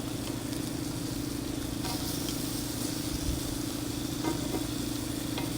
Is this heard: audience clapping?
no